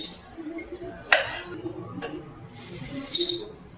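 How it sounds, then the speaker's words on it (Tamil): Rice is swished and rinsed in water in a vessel for chicken biryani. Close splashing and pouring come with faint clinks, and a brighter gush of water follows near the end. "அரிசியை கழுவிட்டு ஊற வச்சுக்கலாம்"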